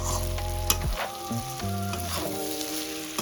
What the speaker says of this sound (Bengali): পাঁচ মিনিট পর খুলে নিচ্ছি আবার একটু নাড়াচাড়া করে দিচ্ছি